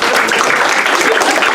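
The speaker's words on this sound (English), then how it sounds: "Give her another round of applause" An audience at a magic show applauds loudly and continuously, a close, thick burst of clapping from many people over a short stretch.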